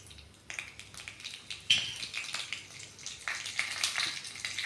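Spices (pepper, cumin, asafoetida, ginger and green chili) hit hot ghee for rava pongal and crackle with light, irregular pops and a soft sizzle, close and fairly quiet.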